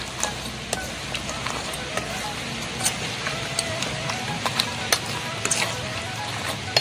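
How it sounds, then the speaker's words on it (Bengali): Mango pickle pieces and slit green chillies being stirred in plenty of oil, giving a soft, steady low sizzle with scattered scraping taps of a spoon against the pan. "এবার দিয়ে দিচ্ছি কটা চেরা কাঁচা লঙ্কা, এবার ভালো করে মিশিয়ে নেব"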